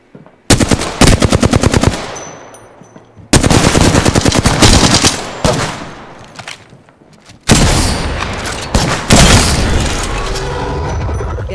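Automatic weapon fire from the video game Apex Legends comes in three loud, dense bursts of rapid shots, separated by short gaps and with booming impacts, and no talk over it.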